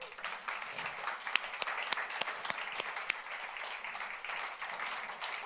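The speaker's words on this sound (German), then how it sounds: "ich kann mal einen Applaus geben für unser Worship-Team" An audience at a church service applauds the worship team, with steady, dense clapping that stays fairly faint and even throughout, without speech over it.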